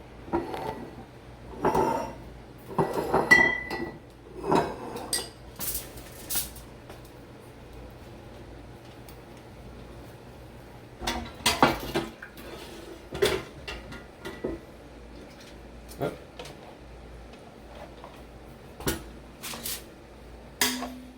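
A fat separator and a ladle handled in a kitchen while cooking Cajun dry-rubbed ribs, with scattered clinks, knocks and clatters in uneven bursts separated by quiet gaps.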